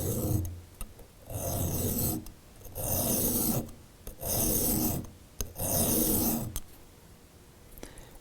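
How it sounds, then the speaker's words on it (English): A hand scraper rasps along a guitar's binding, removing sunburst finish in five long, loud scraping strokes separated by short pauses, close up with no talking. "Angling the scraper off to this side just a little bit,"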